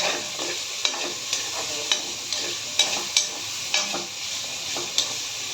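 Vegetables frying in a pan with cashews and raisins, a soft steady sizzle broken by repeated scraping clicks of a spatula stirring at an even pace.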